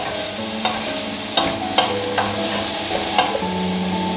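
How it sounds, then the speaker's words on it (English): Curry powder sizzles in a hot pan for a speedy chow mein, with steady frying and a few sharp stirring scrapes and knocks. "Now that it's come up to a sizzle and you've got that curry powder nicely mixed in"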